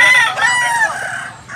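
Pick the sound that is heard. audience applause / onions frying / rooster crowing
rooster crowing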